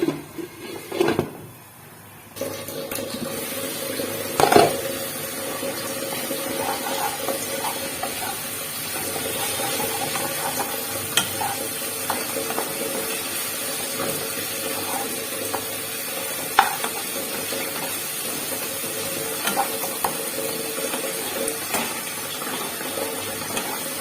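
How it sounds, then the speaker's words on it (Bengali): Shahi paneer masala fries in oil in a pan, a steady sizzling hiss running throughout with occasional soft stirring scrapes and knocks, close and moderately loud, no talking. "মশলাটা কষে গেছে তেল বেরিয়েছে"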